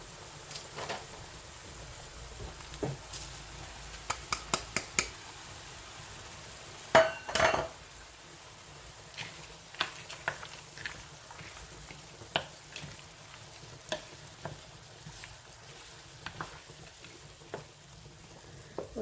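Peas and butter for Irish shepherd's pie are stirred in a pan, with faint sizzling under scattered clinks and scrapes of a utensil against the pan, quiet and close.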